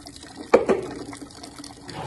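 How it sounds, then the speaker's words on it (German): Hot water briefly splashes and pours into a container for making tea for horses, a short burst followed by a faint trickle, fairly close. "Mit dem heißen Wasser, was da gerade kommt"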